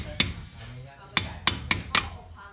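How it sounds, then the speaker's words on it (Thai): Hammer blows driving a stud into the wheel hub of an older car with stretched stud threads, five sharp metallic strikes in an uneven rhythm, close and loud, with a quiet voice murmuring between hits. "เนี่ยค่อยๆตอกเข้าไปอย่างเงี้ยก็"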